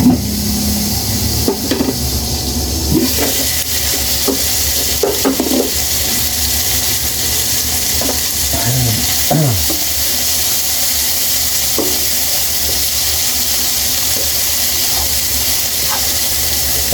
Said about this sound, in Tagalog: Lutuin lang natin itong mga kamatis.